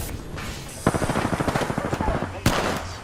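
Rapid automatic gunfire in the video game Apex Legends, a loud burst of about a dozen evenly spaced shots followed by a single sharp report, with faint game voice chatter in the background.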